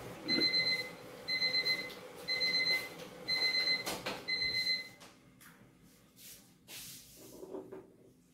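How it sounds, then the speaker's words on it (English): Kitchen timer alarm after blanching vegetables, five evenly spaced bursts of bright electronic beeping, close and clear, followed by faint kitchen clatter and water sounds. "I'm going to put a timer on 2 minutes"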